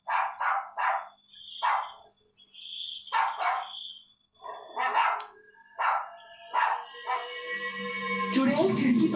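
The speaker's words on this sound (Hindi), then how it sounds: "तभी टफी को उस चुड़ैल की सुगंध आ जाती है और वो उसकी तरफ देखकर भौंकने लगता है।" A dog barks repeatedly at night, a string of sharp, fairly close barks in an uneven rhythm, rising into a longer, whining, howl-like cry at the end.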